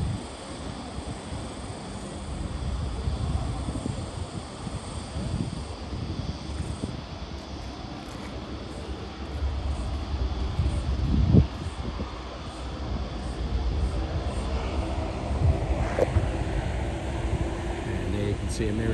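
Airliners taxi at a busy airport, giving a continuous distant jet-engine roar and wind-like hiss that swells and fades slightly, with faint sporadic talk in the background.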